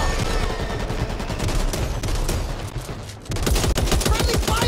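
Dense, continuous automatic gunfire in the zombie shooter Back 4 Blood during a boss fight, loud and sustained bursts with a brief dip before heavier fire resumes; no talk over it.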